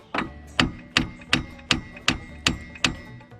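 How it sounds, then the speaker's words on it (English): About eight sharp hammer taps at an even pace strike a Jeep WJ steering knuckle part to drive it out. The blows are close and loud, each with a short ringing decay. "Give it a little tap."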